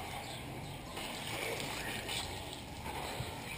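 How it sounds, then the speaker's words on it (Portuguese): Water rinses over a Yamaha FZ6 Fazer 600 motorcycle after a kerosene clean, a steady broadband hiss and splash of spray running continuously and fairly close, with no one talking. "tira tudo, enxágua a moto,"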